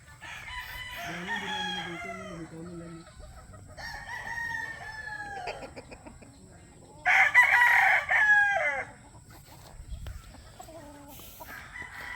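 Gamecock roosters crowing near and far, several long cock-a-doodle-doo calls overlapping across the recording, one loud close crow in the middle, with faint clucking and farm background between calls.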